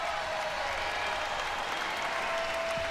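A crowd at Purcell Pavilion applauds steadily for a women's basketball player's senior-day curtain call, a dense, even wash of clapping through the whole stretch, with faint arena tones underneath.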